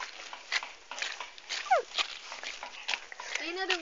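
A dog gives a few brief, sharp yelps amid spoken voices and scattered household knocks and shuffling nearby.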